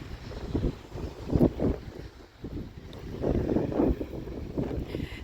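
Gusty wind beside the water on a cold evening buffets the microphone in rumbling waves, rising and easing unevenly with no other clear sound.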